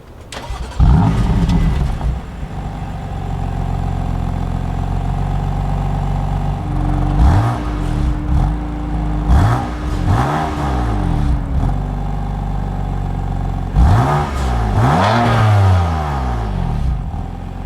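A BMW M4 Convertible, 2020 hardtop cabriolet, revs hard through its quad exhaust pipes, with repeated loud throttle blips rising and falling over a steady idle, close and alone.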